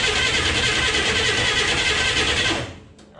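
The engine of a 1962 Chevy Corvair van cranks steadily without catching, a loud continuous churning whir for about two and a half seconds before it cuts off abruptly.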